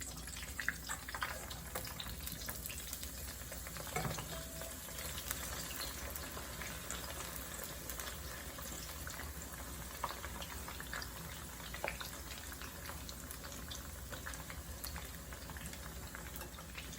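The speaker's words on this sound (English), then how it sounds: "you do not want to fry the eggplant too long" Eggplant frying in hot oil for Indonesian terong balado, a steady, continuous sizzle and bubbling that holds evenly throughout with a few faint clicks, no voices.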